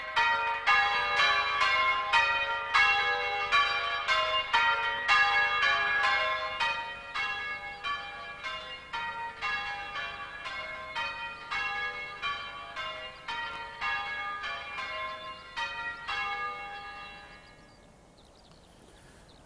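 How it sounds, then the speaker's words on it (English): Church bells ring changes in a steady, even cascade of clear metallic strikes, loud and unaccompanied, before tailing off into quiet near the end. "Well, the bells have stopped,"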